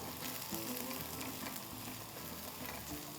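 Onions frying in a pan during a chicken makhni handi cook, giving a steady, moderately quiet sizzle with soft crackles throughout and no talk.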